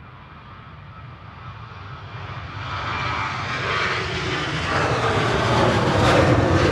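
A Ryanair passenger jet taking off at Manchester Airport, engines roaring in a broad steady rumble that builds in loudness as the aircraft climbs and approaches, heard alone without talk.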